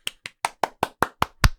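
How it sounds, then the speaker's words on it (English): Eight crisp hand claps sound close and alone, evenly spaced at a quick steady beat, with the last one landing heavier and fuller. "Claps all around."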